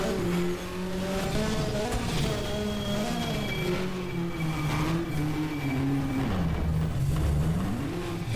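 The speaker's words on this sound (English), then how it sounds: "Just under 600 horsepower, 75 newton meters of torque, and all of this sound to enjoy." A hill climb race car of just under 600 horsepower races up the Col St. Pierre course, its engine loud and continuous, rising and falling through gear changes, with some tire squeal.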